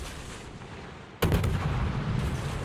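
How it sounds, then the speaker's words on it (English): Naval armour-piercing gunfire from a warship in the World of Warships video game, a single heavy booming salvo that cuts in abruptly over a steady engine rumble and then rolls on with a dense, rumbling tail. "we are going to use our AP guns and shoot on the weakest part of his ship"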